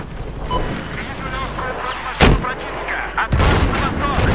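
Gunfire and heavy blasts in Battlefield 4 multiplayer: a loud, sharp explosion-like shot, then another burst about a second later, over constant battlefield rumble with voices talking.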